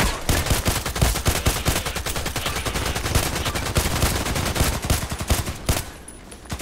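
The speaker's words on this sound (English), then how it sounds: "automatic fire" Rapid automatic fire from an OTs-33 Pernach pistol in the shooter game Contract Wars, a dense steady stream of loud shots lasting several seconds before tapering off near the end.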